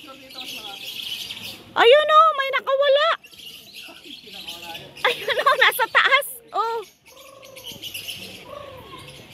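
Birds at a mini zoo in Pugo, La Union, give loud chirps and whistling calls in bursts, close by, amid people talking among themselves.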